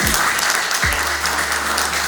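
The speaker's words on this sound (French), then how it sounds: "de chaleureux applaudissements" Warm audience applause greets the secretary general of a private business sector organisation at an official launch ceremony, a steady wash of many hands clapping close and loud for about two seconds.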